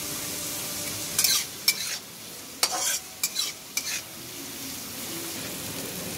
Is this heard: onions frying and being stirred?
yes